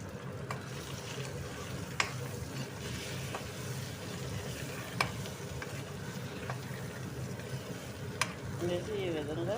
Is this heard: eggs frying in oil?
yes